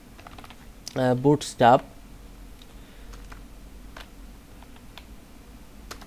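Keystrokes on a computer keyboard during a Bootstrap 5.3 web design session: a few sparse, faint clicks spread out after a short spoken word, over quiet room hiss.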